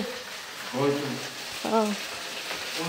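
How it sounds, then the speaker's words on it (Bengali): Okra and potato frying in a pan, a steady sizzle running under short bursts of nearby voices. "এই যে আমি ভেন্ডি আলু ভাজা করছি"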